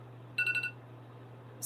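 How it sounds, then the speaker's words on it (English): A phone alarm rings in a short burst of several quick, bright electronic beeps over a low steady hum, fairly faint and brief, with no talk. "Stop the alarm."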